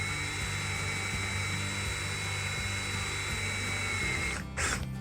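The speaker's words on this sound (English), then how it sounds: "Okay, we drilled the stud." A power drill boring through an RV wall into a wooden stud, a steady loud mechanical whine holding for about four seconds before stopping abruptly, followed by a brief rustle.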